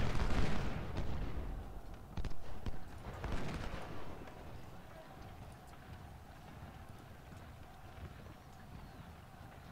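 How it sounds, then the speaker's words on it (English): Gunfire exchange in the Civil War strategy game Ultimate General: Civil War, heard as bursts of distant musket and artillery fire in the first few seconds, then a low rumbling battle ambience with scattered shots. "Looks like we're trading fire."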